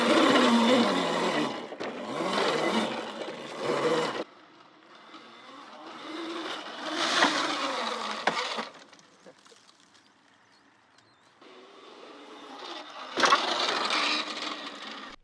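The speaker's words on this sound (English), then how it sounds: "the front tire will rub the front fender a little bit, which is that buzzing sound you hear" An Aipas S1 electric moto runs on dirt trails, its front tire rubbing the front fender under load to make a harsh buzzing whir in several loud bursts, with quieter gaps of lighter motor hum between them.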